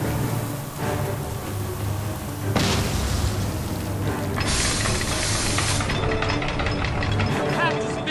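Bomb explosions in the video game Guild Wars 2 boom heavily amid battle noise, a couple of loud bursts breaking over a continuous rumbling din, with voices talking through the chaos.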